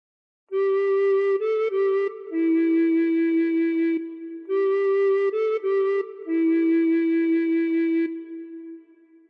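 Recorder playing the first phrase of Silent Night, two clear breathy melodic phrases of sustained notes separated by a short pause, close and alone with no talking.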